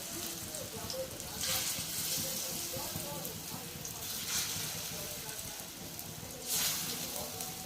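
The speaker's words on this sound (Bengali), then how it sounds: "ওই তেলের মধ্যে আর কিছুটা দিয়ে অল্প অল্প করে ভেজে নেব" Egg and potato fritters fry in oil on a tawa, a soft steady sizzle with a few louder hissing swells, while a person talks over it.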